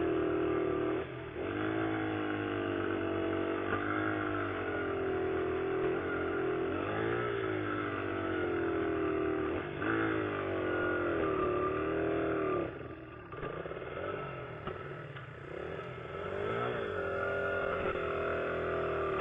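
A car engine lugs and stalls on a hill: a steady, rough idle that rises and falls unevenly, with a noticeable dip and stumble in the later part. The engine is close and moderately loud, with no voices.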